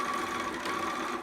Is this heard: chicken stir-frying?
no